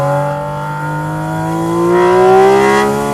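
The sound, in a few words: naturally aspirated sports car engine revving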